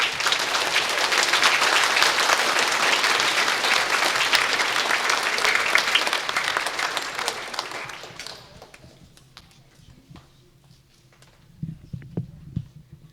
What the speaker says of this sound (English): can we please give her a warm round of applause?